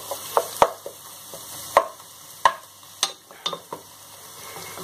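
Chicken curry sizzles in a frying pan while a utensil stirs and scrapes through it, giving sharp, irregular clacks and scrapes over a low continuous hiss, close and fairly loud.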